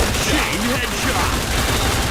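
Rapid gunfire from the Point Blank shooter game, a dense, continuous burst of shots over game sounds with a voice talking throughout.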